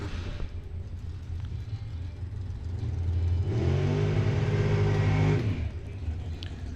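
A drag racing car at a bracket racing dragway idles and then revs loudly in a sustained rising-and-falling burst after its burnout before settling back, with no talk over it.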